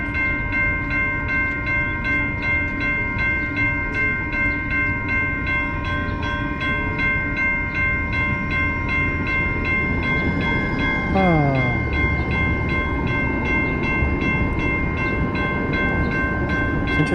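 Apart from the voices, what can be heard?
train passing through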